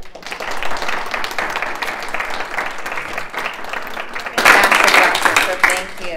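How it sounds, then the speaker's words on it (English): An audience at the 2022 DuBois Lecture applauds after a talk: a dense burst of many hands clapping nearby for several seconds, swelling louder toward the end. "Let's give Dr. Ogbar a round of applause."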